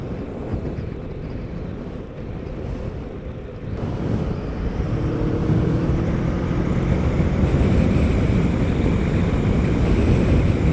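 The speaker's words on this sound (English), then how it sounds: "well that's obviously a fair bit of airflow at this sort of speed." Steady, loud wind roar buffets a motorcycle helmet visor at highway speed, a dense broadband rush that swells slightly partway through and holds constant, with no talking over it.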